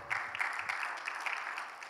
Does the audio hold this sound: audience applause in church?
yes